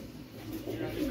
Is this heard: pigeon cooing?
yes